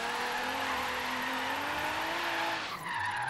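A Nissan S15 drifts in a racing video game, with a steady engine drone and rising tire squeal under skidding, closing with a brief shift in engine pitch.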